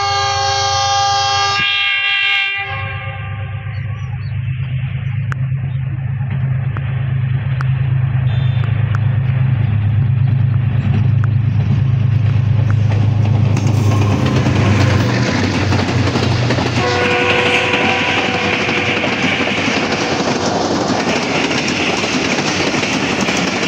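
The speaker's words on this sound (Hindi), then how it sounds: "जी अवाम एक्सप्रेस पास कर गई है, काफ़ी अच्छी स्पीड में यहाँ से पास हुई है" Awam Express passenger train (13 Up) passing at speed, its horn blaring loudly at first, then a sustained heavy rumble of wheels and carriages rushing close by, with a second horn blast near the end.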